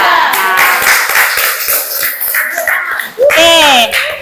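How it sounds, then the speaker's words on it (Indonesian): A school class claps together for student groups, a few quick rounds of hand clapping up close mixed with children's voices, and an adult speaking before and after. "Kita kasih tepuk tangan untuk kelompok 2 dan"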